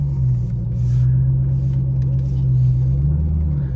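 A car creeps forward in first gear toward a portable carport, a steady loud low engine rumble heard close from inside the vehicle, with no talking.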